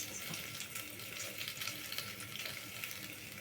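Jaggery goes into hot ghee in a pan while making a sweet potato dish, producing a steady, close crackling sizzle with small bubbling pops throughout.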